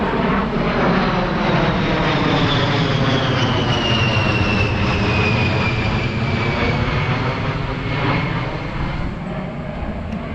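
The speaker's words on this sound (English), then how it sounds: "Some A10s flying over." A-10 military jets fly over outdoors with a loud, continuous engine roar and a high whine that slowly shifts in pitch as they pass, steady throughout with no speech.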